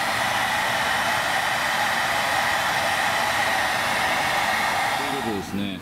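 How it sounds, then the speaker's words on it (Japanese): A hair dryer blows steadily to warm a rim sticker on a Suzuki GSX-R125 motorcycle wheel, a loud continuous whooshing roar close by that switches off at the very end. "最後ドライヤーで温めて終わりたいと思います。"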